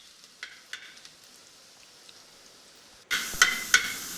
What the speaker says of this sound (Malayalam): ഇളക്കി കൊടുക്കാം. ഈ സമയം നല്ല ഹൈ ഫ്ലെയിമിൽ തന്നെ വെക്കണം.